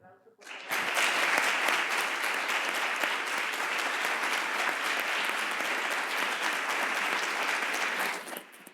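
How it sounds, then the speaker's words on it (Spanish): An audience at a university science-history event bursts into strong, sustained applause, a dense wash of clapping that starts abruptly and holds steady for about eight seconds before tapering off. "Así que vamos a dar un fuerte aplauso."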